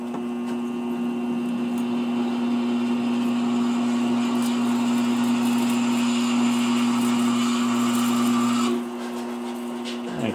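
A homemade gear cutter fitted with an 11/16 bit cuts into metal with a steady, loud motorized whine and a constant droning hum, running continuously up close until it eases off near the end.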